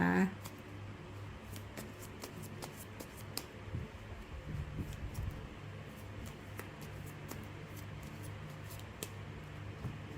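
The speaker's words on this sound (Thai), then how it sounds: "ขอเป็นตัวแทนตัดไพ่ตัดไพ่คนเกิดวันอาทิตย์นะคะ" A deck of tarot cards is cut by hand, giving a scatter of crisp, faint card clicks and snaps near the microphone, with a quiet hum in the background.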